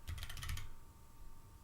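Computer keyboard typing during a livestream: a quick burst of clicky keystrokes in the first half-second, then only faint room noise with a steady hum.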